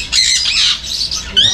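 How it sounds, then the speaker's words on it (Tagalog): Many birds squawk at once in a noisy, overlapping chorus of harsh high-pitched calls, close by and continuous, at a resort on Balicasag Island, Bohol. "Ito yung mga ibon, dami oh."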